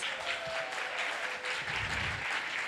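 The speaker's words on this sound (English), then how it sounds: "give him a round of applause" A brief, steady wash of applause rises from the audience at the San Francisco food action summit as a chef is welcomed to the stage, fairly full and continuous with no talking.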